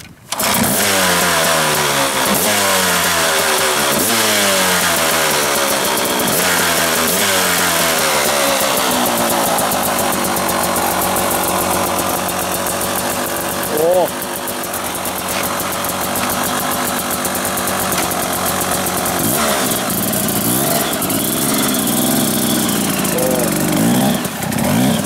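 KTM snow bike engine at a ski resort starting up, then revving in repeated rising and falling bursts before settling into a steady close idle, with some brief talk.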